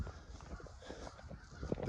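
Several crows call outdoors in a quick, overlapping series of short, harsh caws, moderately distant against a noisy background.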